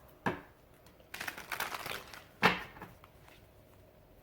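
Tarot cards shuffled by hand in a few papery bursts, a riffle and soft flapping, close up with quiet gaps between.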